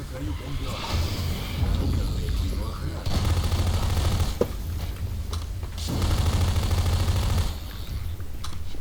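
Rapid gunfire bursts from Half-Life 2: Episode Two run continuously under a busy, dense soundtrack, with a few sharper shots standing out.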